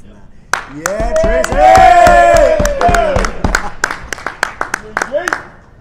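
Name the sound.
audience applause for a speaker's entrance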